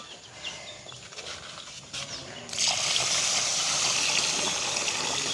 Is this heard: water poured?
yes